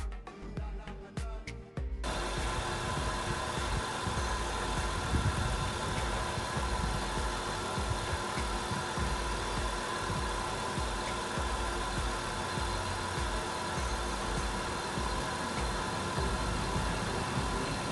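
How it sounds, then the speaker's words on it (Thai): A Nissan Cefiro A33 2.0 with automatic gearbox, running on LPG and recently overhauled, idles with a steady, smooth, quiet hum that holds even and continuous after a brief opening burst of other noise. "เสียงเครื่องยนต์เดินนิ่งเรียบเงียบเลยนะครับ"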